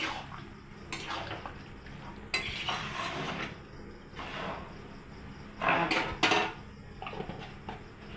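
A spoon scrapes and clatters against a pan as a mixed vegetable curry of carrot, potato, cauliflower, capsicum and paneer is turned over with ghee, the heat off. Intermittent close metallic scraping bursts stand over a quiet background, with no talking.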